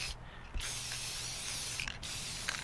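Salal branches being spray painted gold from an aerosol can: two short, close hissing bursts, the first longer than the second, with no talking.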